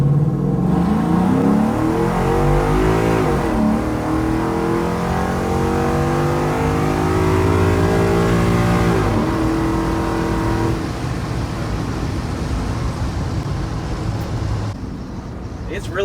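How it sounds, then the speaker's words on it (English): A 1977 Ford F-250 pickup with a swapped Coyote V8 accelerates hard, recorded from the cab. The engine roars loudly, climbing in pitch through two gear changes before easing off near the end, with a voice speaking over it. "So we'll slow down, we'll kind of launch this thing."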